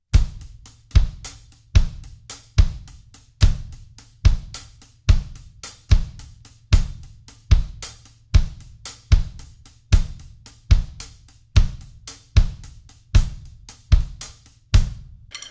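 A drum kit plays a slow three-against-four pattern, accented hi-hat notes in fours against kick drum hits in threes, loud and close with evenly spaced strokes and no talk.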